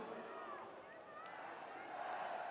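Crowd singing happy birthday at a Red Bull BC One World Final 2018 breakdance battle, a steady mass of voices and cheering filling the arena, continuous and fairly distant under the general hubbub.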